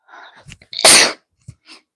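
A single loud sneeze bursts out near the mic, preceded by a brief sharp intake of breath and followed by faint small sounds.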